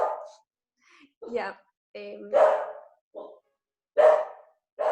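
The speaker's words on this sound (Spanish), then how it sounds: "disculpe si mi perro ladra" A pet dog barks in sharp bursts at home, several loud close yaps separated by short gaps, while a person speaks briefly between them.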